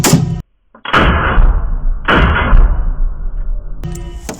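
Three loud, sharp shots from a shoulder-fired gun at a shooting range, spaced about a second apart, each a close, hard crack followed by a long ringing decay.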